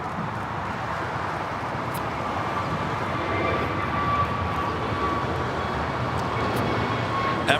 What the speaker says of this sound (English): Should be an Alpha 8 turnoff for that 777 freighter.